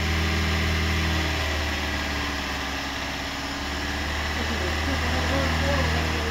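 A Swift Dzire engine runs steadily with the accelerator held down during decarbonization, a loud, even low drone with a faint swell around the middle, while people talk over it.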